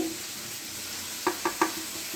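Mustard seeds with a little water are ground by hand on a grinding stone, giving three short, gritty scraping strokes in quick succession over a soft steady hiss, close and fairly quiet.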